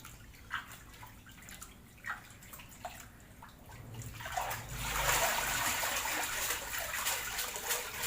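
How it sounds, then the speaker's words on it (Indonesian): Ground boiled soybeans being strained in water for tempe: scattered drips and small splashes, building into a steady wash of pouring, trickling water that continues to the end. "Ini adalah tahap penyaringan."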